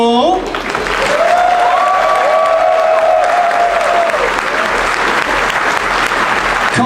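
A crowd applauding as a contestant is introduced, loud sustained clapping and cheering that fills the space throughout, with a held sung or shouted tone rising over it partway through.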